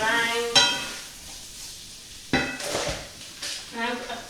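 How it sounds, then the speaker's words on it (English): Meat sizzling in a frying pan for a biryani is stirred around in a few distinct scraping sweeps, close by, over a steady bed of frying noise. "Just check on the meat, give it a good stir around."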